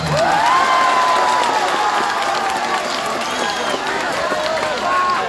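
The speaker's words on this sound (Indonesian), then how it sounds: "jalan rusak malah tepuk tangan" An audience at a religious gathering at an Islamic boarding school in Lampung claps steadily, a broad wash of applause and crowd noise running under someone speaking.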